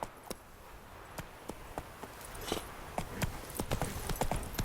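Horse hooves clip-clop steadily in The Witcher 3, a run of sharp, evenly spaced hoofbeats that grows slightly louder and quicker toward the end over soft background ambience.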